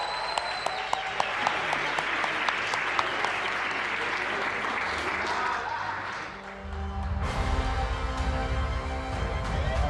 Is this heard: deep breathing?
no